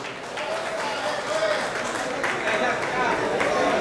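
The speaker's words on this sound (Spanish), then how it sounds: "Un aplauso para los atletas" An audience claps for the athletes at a youth men's physique bodybuilding contest, a steady spread of applause mixed with crowd chatter and an announcer's voice.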